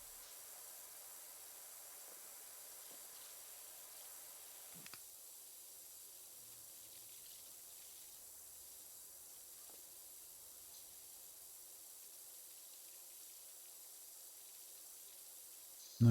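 A pressure washer fitted with a white nozzle sprays a slide in PowerWash Simulator, giving a soft, steady hiss that runs unbroken for the whole stretch with no speech over it.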